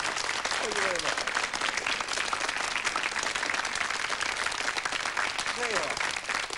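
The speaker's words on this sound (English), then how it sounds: "Round of applause." Studio audience applause on a 1977 television programme, a full continuous burst of many hands clapping at steady volume, with a couple of short voiced sounds rising briefly above the clapping.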